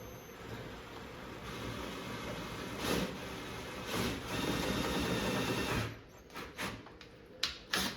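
A drill with a 3/8 bit boring a recessed hole into an arcade cabinet during a restoration, a steady whirring motor running continuously with a few louder bursts, then stopping and starting in short pulses.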